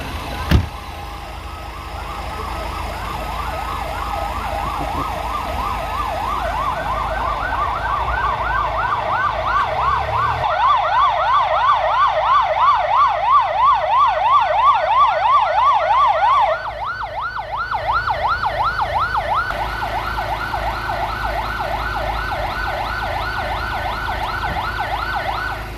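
A loud ambulance siren wails continuously, its rising and falling tone cycling rapidly and shifting pattern partway through, close and dominant over faint road noise.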